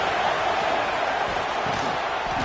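A huge stadium crowd roars without letup at an Arizona State at Iowa college football game, a loud, dense wall of cheering noise that never dips.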